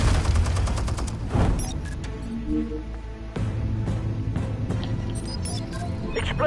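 Rapid bursts of gunfire and shots from an enemy weapon in a Batman video game, dense and loud at first, then continuing in steady volleys with booming impacts.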